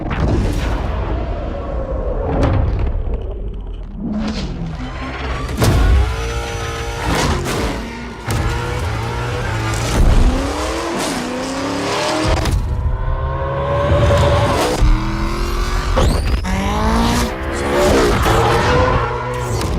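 Three Ford Mustangs in the Forza racing game rev and roar in rapid bursts, with tire squeals and booming hits layered over a driving soundtrack.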